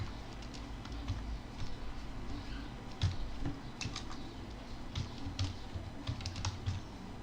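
Code being typed on a computer keyboard, a quiet, irregular patter of key clicks with scattered louder taps over a soft background hum.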